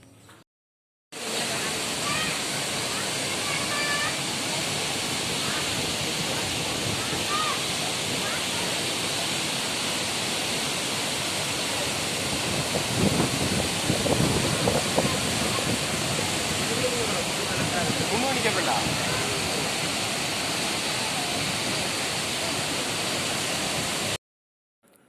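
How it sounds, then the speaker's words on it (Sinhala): Dunhinda waterfall on the Mahaweli river near Badulla roars loudly and continuously, a dense rushing wash of falling water that holds steady for over twenty seconds, close and unbroken. "එහෙනම් අපි දැන් බලමු දුම්හිඳ ඇල්ල."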